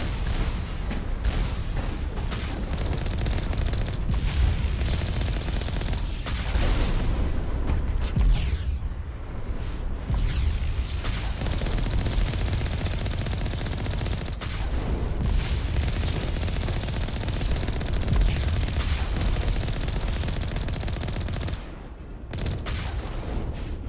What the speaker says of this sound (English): I like the new gun sound, it's not super overpowering